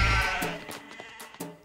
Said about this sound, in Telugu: ఆ వెనకాలే గొర్రెలు